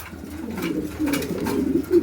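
Large pigeons coo steadily in low, throaty rolling calls, several birds overlapping close by and growing louder toward the end, with no talking.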